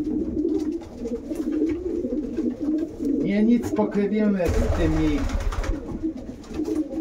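Homing pigeons cooing inside a pigeon loft at a racing-pigeon breeding facility, soft repeated coos at close range mixed with a voice talking over them.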